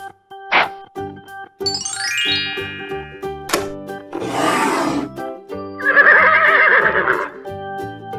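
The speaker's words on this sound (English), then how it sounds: "Horse." A horse neighs loudly in a long whinny midway, amid toy-like chimes, a rising glissando and other bright sound effects over a light musical background.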